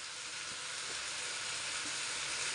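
Crushed garlic sizzles in a hot pan as the beef curry base cooks, a steady, even hiss at moderate loudness with no other sounds over it.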